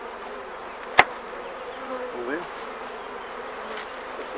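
Honeybees hum quietly inside an opened hive during a queen change, a low, constant buzz broken by one sharp click and a brief murmured word.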